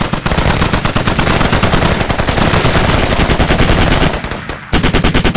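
Rapid automatic gunfire in the video game Squad, loud and close, firing in sustained bursts with a short pause near the end before resuming.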